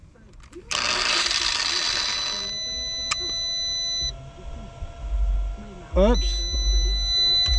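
A power inverter in a truck, running a grinder, sounds a steady high electronic warning beep that stops and later returns, while a voice speaks briefly and low rumbling and clatter continue underneath.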